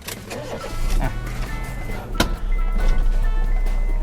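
A 2012 Honda Jazz 1.5V automatic hatchback engine cranks with a short sharp burst, then settles into a steady, close low idle hum.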